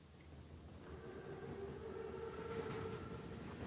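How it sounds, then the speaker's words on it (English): A train rumbles steadily along its tracks in the WWII-era shooter Call of Duty: WWII, a continuous low rolling drone with faint tonal hums, sustained and moderately loud throughout without speech. "Train's right on time."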